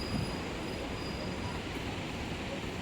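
A toy train rumbles along through a forest with a steady, continuous roar that holds unbroken throughout.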